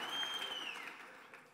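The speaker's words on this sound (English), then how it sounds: "let's give Jesus an incredible round of applause, everybody." A church congregation claps briefly, the applause moderate and fading over a second or two, with a faint high tone lingering in the room.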